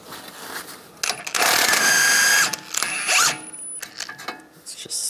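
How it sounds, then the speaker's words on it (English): Ratchet wrench with a 19mm socket working the tie rod nut on a 1998-2010 Volkswagen Beetle during strut replacement; loud bursts of rapid clicking ratcheting and metallic mechanism noise, with brief pauses between pulls. "We're going to remove the tie rod nut, use a 19mm socket."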